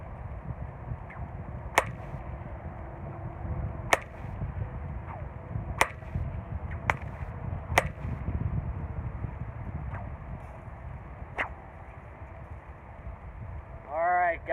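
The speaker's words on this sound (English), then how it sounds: "this is 6 foot long, guys. Very long whip and very loud." A loud six-foot bullwhip gives sharp, isolated cracks, about half a dozen at irregular intervals of a second or two. Each crack snaps crisply over a constant outdoor background hiss.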